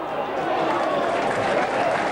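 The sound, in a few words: rugby crowd applauding good play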